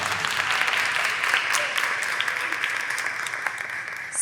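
An audience applauds introduced speakers with a dense, steady wash of clapping that holds for about four seconds at an even level.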